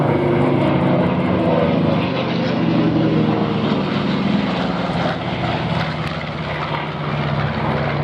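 A B-25 bomber's piston engines and propellers drone loud and steady through the whole stretch, a broad continuous roar at an air show with a voice faintly audible beneath it.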